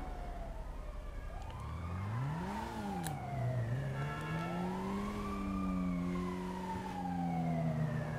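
Police siren wailing in GTA 5, a rising and falling tone sweeping steadily up and down, loud and continuous over a low engine-and-traffic rumble, with no voices.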